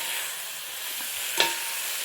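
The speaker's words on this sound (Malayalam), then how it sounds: "ആ ഒരു ഉള്ളിയുടെ ഒരു ഗ്രേവിയൊക്കെ ചിക്കനിലേക്ക് എത്തുന്ന രീതിക്ക് വേണം നമ്മൾ ഇളക്കാൻ." Chicken curry with onion gravy being stirred in a pan: a steady, low sizzle runs throughout, broken by a single brief scrape of the spoon near the middle. No one speaks.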